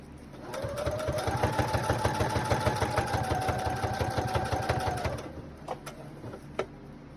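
A sewing machine stitching an adult bib clothing cover hums in a close, steady run with a fast rhythmic needle pulse for about five seconds, then stops, followed by a few faint clicks.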